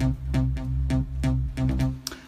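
A buzzy synth bass made of two saw waves plays a rhythmic pattern of repeated notes, thick and low, with no voices.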